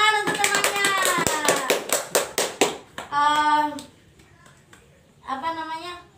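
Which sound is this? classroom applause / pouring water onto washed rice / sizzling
classroom applause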